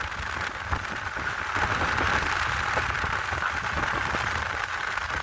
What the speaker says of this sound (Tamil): கடல் தண்ணி எப்படி இந்த இதுல மோதி கொண்டிருக்கின்ற பாருங்க